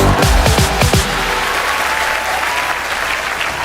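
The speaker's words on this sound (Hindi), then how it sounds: "जोरदार तालियां हो जाए।" Loud studio-audience applause on a comedy talk show breaks out after a few sharp musical stings, then continues as a dense, even roar of clapping to the end.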